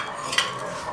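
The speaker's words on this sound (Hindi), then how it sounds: "आपने इनको मिक्स करना है" Sugar and cornflour stirred together in a metal pot, a brief close spoon scrape with a small clink against the side, quiet and alone.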